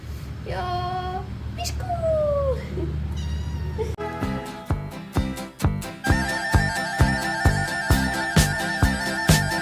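A cat meows repeatedly while being caught at home, the strained cries rising and falling close by, then giving way to a loud, rhythmic pulsing comedic music track that runs to the end.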